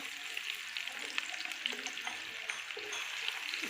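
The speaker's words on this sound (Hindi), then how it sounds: "उसमें ये 2 अदद प्याज डाल रही हूँ" Two onions frying in ghee, a brief, fairly faint and even sizzle with light crackling and a few soft stirring touches.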